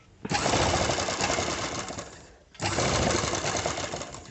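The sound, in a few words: sewing machine stitching embroidery work blouse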